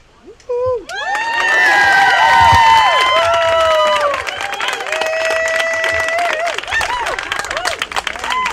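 A crowd at an outdoor Pride flag raising and Pulse memorial cheers and whoops loudly, with high shouts over dense, sustained applause. After a brief opening voice the noise swells and holds strong throughout, close and full.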